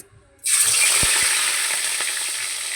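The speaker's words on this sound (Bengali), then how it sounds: "মাছ ভেজে উঠিয়ে নিচ্ছি" Rohu fish pieces frying in hot oil, a sudden loud burst of sizzling that starts after a quiet moment and holds steady and close, with a couple of faint clicks.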